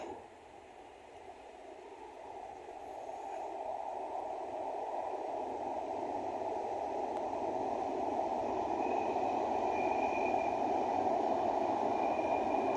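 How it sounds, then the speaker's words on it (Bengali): The Madhumati Express crosses the Padma railway bridge at dawn, heard as a steady rumble that slowly builds in loudness from a distance, with no voices. "এই পদ্মা রেলওয়ে সেতু দিয়ে দেখেন একটা ট্রেন যাবে এখন"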